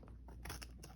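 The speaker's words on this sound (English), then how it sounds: "It's almost like turning my scissors a little bit in." Scissors snipping a paper strip for a Halloween mini lapbook craft, a quick run of several soft, close cuts at low volume.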